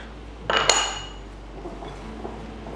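Water being stirred into chocolate and vanilla cake batter in a bowl, with a sharp clatter and clink of a utensil against the bowl early on, then quieter scraping.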